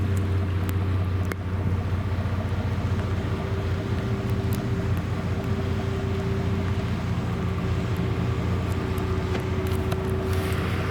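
Boat engine running steadily on a windy fall cruise to the haul-out ramp, a continuous low droning hum with wind buffeting the microphone and faint water noise throughout.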